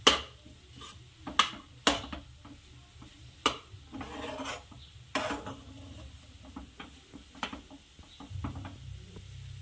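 A spoon scrapes and clinks against a pan while rava upma with sambar mixed in is stirred, giving sharp intermittent metallic taps and soft scraping strokes at close range, with no talking.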